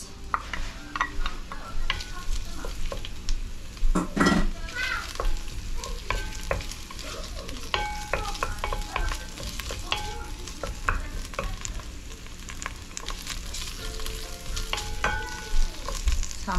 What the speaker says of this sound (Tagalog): So, gisa lang tayo ng sibuyas.